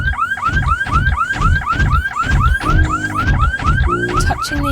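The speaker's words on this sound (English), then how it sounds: "Touching the exhibits will trigger the alarm." A museum exhibit alarm in the video game Dreamfall wails in a fast repeating electronic whoop, loud and close, cycling steadily with no talk over it.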